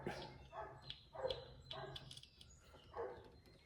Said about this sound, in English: He's a good watchdog.